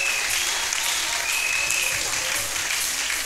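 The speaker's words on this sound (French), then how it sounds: "Acclamons pour Jésus." Church congregation applauding and cheering for Jesus during a worship service, a steady dense wash of clapping that holds loud and continuous throughout.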